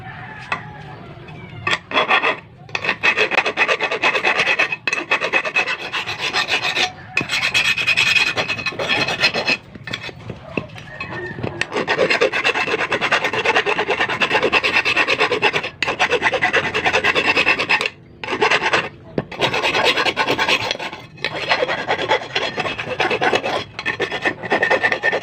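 A hand file rasps steadily across a welded metal TV cabinet bracket in a home workshop, long rhythmic strokes repeating close and loud for about twenty-five seconds with only brief pauses between passes.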